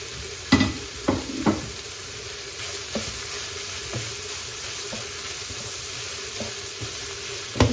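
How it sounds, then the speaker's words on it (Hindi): Chicken with spices and fresh coriander stirred in a pan, giving a steady close sizzle with a few sharp scraping knocks of the spoon early on and softer taps later. "चिकन मसालों को हमें पकाना है।"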